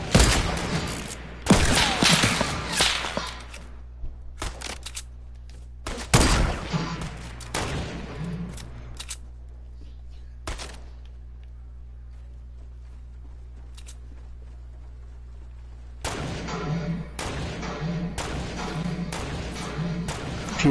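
Semi-automatic rifle gunfire in the video game Fortnite, loud sharp bursts of shots in separate clusters with quiet gaps between, a few isolated single cracks, and a final flurry near the end.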